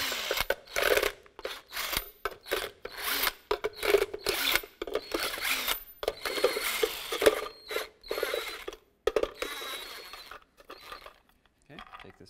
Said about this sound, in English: Let's remove this cover here, 22 millimeter socket.